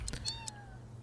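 A cartoonish cat meows in The Sims 3, two or three short rising and falling mews sounding clearly and alone over a low game hum.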